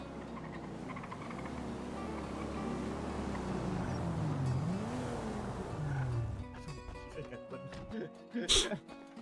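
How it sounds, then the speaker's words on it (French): A car engine hums and rises in pitch as a vehicle draws nearer, with a game-like mechanical whine and a brief sharp burst near the end. "Ah, j'entends sa voiture."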